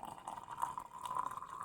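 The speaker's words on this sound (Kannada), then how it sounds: "ಸೋಸಿಕೊಂಡಿರುವ ನೀರನ್ನು ಒಂದು ಗ್ಲಾಸ್ನಲ್ಲಿ ಹಾಕಿ" Strained jeera (cumin) water poured into a glass, a faint, thin trickle of liquid running steadily with a light ringing fill tone, quiet and close.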